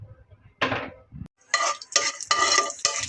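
Nuts are fried and stirred in a pan for a sweet carrot halwa. A loud scraping stroke is followed by a pause, then several bursts of clattering, sizzling stirring close by.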